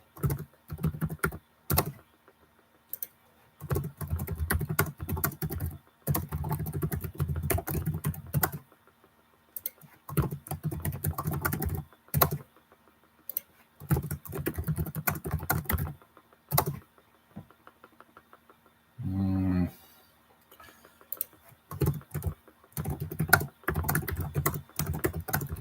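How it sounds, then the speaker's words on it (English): Rapid clicking of keys on a computer keyboard in irregular bursts with short pauses between, close and fairly quiet. "I'm typing something."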